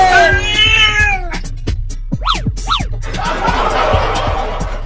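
Loud, close cartoon cat meows come in a quick series of short yowls, followed by scuffling noise and a faint voice in the background.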